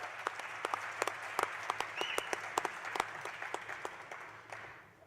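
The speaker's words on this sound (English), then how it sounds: "Another round of applause for our organist today" A theatre audience at the Riviera Theatre applauds an organist with steady, many-handed clapping, somewhat distant and gradually fading toward the end.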